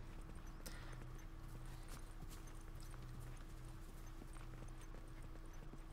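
A horse's hooves clip-clop steadily in the video game The Last of Us, a soft rhythmic hoof beat heard at a distance under a constant low ambient hum.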